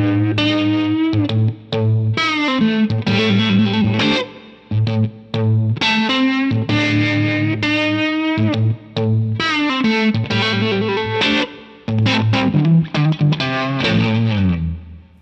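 A distorted electric guitar plays a blues riff in choppy phrases with brief gaps, loud and close, with a swirling effect on the tone.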